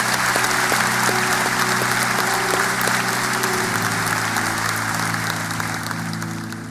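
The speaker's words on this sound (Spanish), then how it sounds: "Fuerte aplauso." Loud, steady applause from a church congregation fills the whole stretch, dense and close, fading slightly at the end, with a low sustained tone running beneath it.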